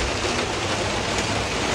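Heavy rain hammers down at an eventing venue in dark, wet weather, drumming loud and continuous on a horse trailer roof as a dense, steady wash of noise with no voices.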